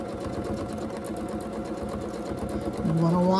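A sewing machine doing free motion quilting runs at a fast, even stitching rhythm throughout, close and steady, while someone talks over it; a tonal hum rises near the end.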